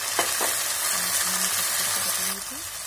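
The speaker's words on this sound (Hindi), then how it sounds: "इसको भी हम चम्मच का ऐसे चलाते रहेंगे जब तक ये सुनहरी ना हो जाए तब तक हम इनको भून लेंगे" Steady sizzling of onions and tomatoes frying in a pan, with occasional scraping of a spoon stirring, close up and continuous.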